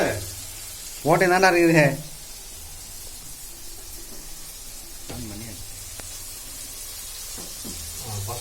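Onion and tomato sauté in a pan for vegetable Maggi in a bachelor room kitchen, a steady low sizzle throughout, close, with a short stretch of speech and brief voices later.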